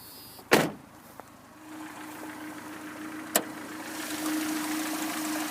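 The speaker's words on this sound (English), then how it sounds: "So let's go put the window down here" A power window on a 1983 Dodge Aries with a 2.2 liter four-cylinder hums steadily as it lowers. The hum starts after a sharp thump and runs for several seconds over the low drone of the idling engine.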